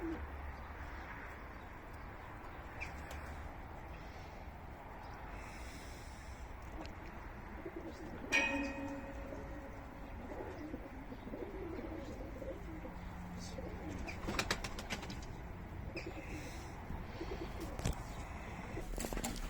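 Kept pigeons coo softly and repeatedly against a noisy, rustling background, with muffled voices and occasional knocks and movement sounds mixed in.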